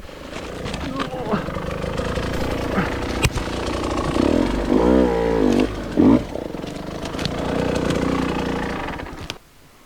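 A KTM 150 XCW TPI two-stroke dirt bike engine on a hard enduro trail, buzzing loudly and close, revving sharply as the clutch is dropped to climb obstacles, with a rider talking over it.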